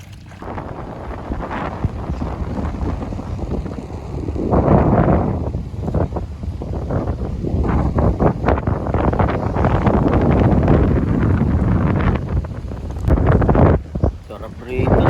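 Strong, cold, steady wind roars and buffets the microphone throughout on a beach island in Bohol, Philippines, with gusts swelling louder midway and near the end; faint voices may sit beneath it.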